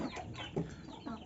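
Free-range chickens clucking in a yard, a few short, soft clucks close by in quick succession.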